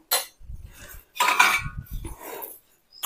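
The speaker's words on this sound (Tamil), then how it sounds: "இப்போ இது நல்லா ஒரு தட்டை போட்டு நம்ம மூடி வச்சிடணும்" A plate is set over a bowl of black flax seed gel, giving a few close ceramic clinks and scrapes in short separate bursts with quiet gaps between them.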